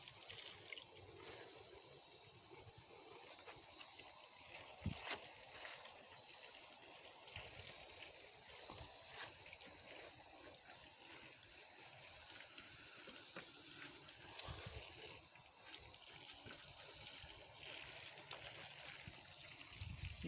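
Water poured or sprayed over plants and tree branches outdoors to soak them, a steady close trickling, splashing rush running for about twenty seconds with a few brief louder spatters and no talk.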